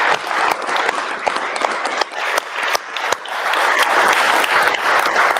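A live audience applauds loudly for several seconds in a dense burst of clapping, with occasional sharper individual claps standing out and a few faint voices in the mix.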